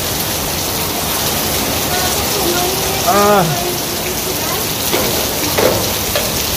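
Heavy rain on the first rainy day of May falls as a dense, steady hiss of drops striking surfaces, close and continuous throughout, with a brief exclamation from a voice.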